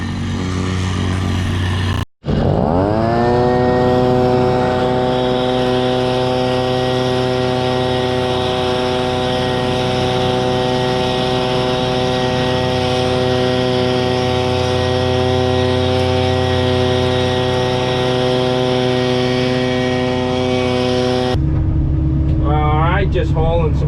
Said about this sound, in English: Just hauling some gravel in between jobs in the evening, just after work.